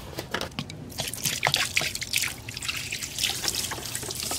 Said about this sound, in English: I'm just going to use the rest of this water to wash down that coolant from up there.